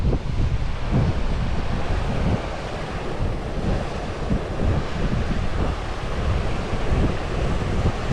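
Rushing water at the Talla waterfalls near Talla Reservoir, a steady, loud roar of falling water mixed with gusty wind buffeting the microphone, continuous throughout with no voices.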